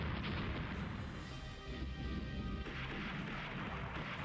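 Naval battleship gunfire in Rule The Waves, a dull, low rumbling boom sustained under a steady roar, distant and muffled, with no talk.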